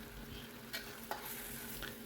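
Blended spice paste, made with water, cooking down in ghee for nasi kebuli, a steady soft sizzle with a few scraping stirs, heard alone at low level.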